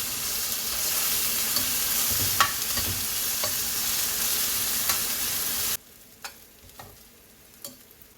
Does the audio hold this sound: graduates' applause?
no